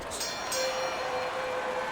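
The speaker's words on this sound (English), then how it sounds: "The unexpected final bell as we will now await to hear the judges' scores." A final-round bell rings in the Fight Night Forever boxing video game at a Davis versus Lomachenko bout, one sustained steady tone heard over constant arena crowd noise.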